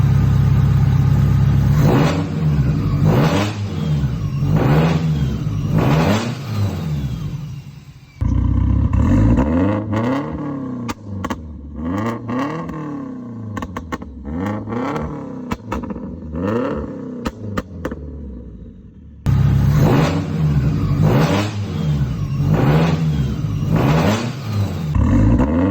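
A car fitted with a new Vibrant Titanium exhaust revs repeatedly, loud and close, with rising and falling roars in quick succession and a short quieter stretch between bursts.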